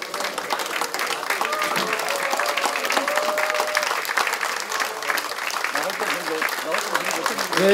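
Audience applause at a Democratic Party floor leader election event in Korea, a dense, steady roar of many hands clapping throughout, with a crowd murmur and some voices under it.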